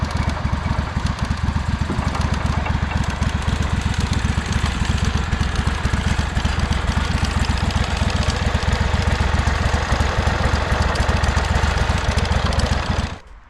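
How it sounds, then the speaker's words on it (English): An old, beat-up mowing tractor engine runs continuously with a loud, close, rapid chugging and knocking rhythm while it shakes, holding steady until it cuts off at the very end, with no speech. "Engine is running."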